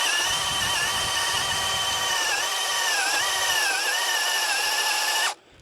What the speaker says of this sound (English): It's a lot easier to drill through the wood.